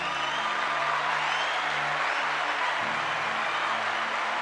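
A crowd claps together in a dense, sustained round of applause that holds steady for several seconds.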